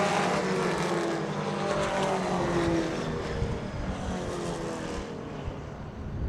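Four-cylinder pro stock race cars run on an oval track, a continuous blended engine drone heard at a distance, steady and fairly loud with slight rises and falls as the pack passes.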